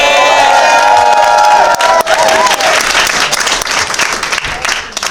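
A large audience at a Comic-Con cosplay championship bursts into sustained applause, mixed with cheering, whoops and shouts that fill the hall loudly throughout.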